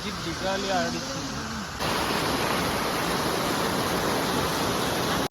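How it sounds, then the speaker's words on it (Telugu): Waterfall in Munnar, Kerala, in the dry summer season: a steady, broadband rush of falling water that runs loud and constant throughout, with a voice speaking over it during the first couple of seconds. "చూసారా ఈ వాటర్ ఫాల్స్ ఎంత బాగుందో."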